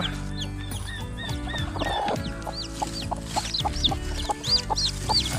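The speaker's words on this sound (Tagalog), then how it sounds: "ayan ayan na po yung ating mga Rhode Island Red masisigla po" Rhode Island Red chickens cluck and chirp close by, with busy overlapping calls and sharp rising peeps growing louder toward the end, and no human voice.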